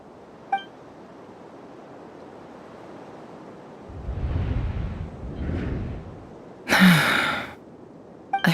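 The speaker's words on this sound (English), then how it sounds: "I heard Yehuda gasp" A character in Genshin Impact lets out a sharp, breathy gasp near the end, after a soft sigh-like exhale and low rumbling ambience in a quiet game scene.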